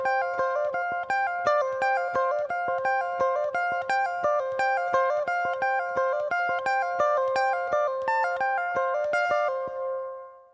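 Electric guitar playing the solo section of a song, a steady run of bright plucked notes with hammer-ons and pull-offs, continuous and alone for about ten seconds.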